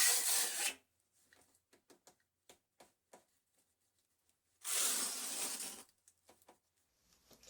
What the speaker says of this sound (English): now I'm going to use the trowel.